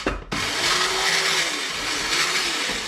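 A blender runs steadily as it blends wild garlic pesto, a loud continuous whir starting abruptly after a brief quiet moment and holding strong to the end.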